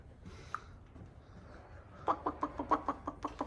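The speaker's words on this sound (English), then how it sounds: "there's a flipping chicken in my garage, look at that" A chicken wanders a home garage, giving a faint early cluck before a rapid series of sharp, close clucks in quick rhythm toward the end.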